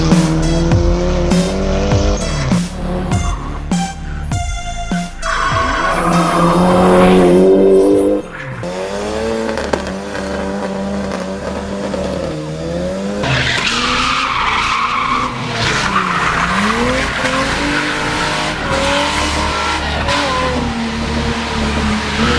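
A Nissan Cefiro A31 drifts with its tires squealing in long wavering screeches, the engine revving and surging hard close by, and the squeal shifts in pitch as the car slides.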